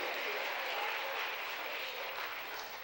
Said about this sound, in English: Clap your hands and bless him if you believe it's a big year for you.